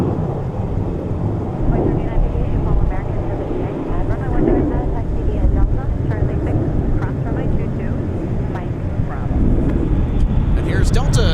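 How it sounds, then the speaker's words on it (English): An Alaska Airlines Boeing 737-900ER departing MSP airport makes a steady, broad roar that holds for the whole stretch at a moderate distance, with voices and airport ambience faintly beneath it. "There's Alaska Flight 555 off to Seattle, Tacoma with the 737-900 ER."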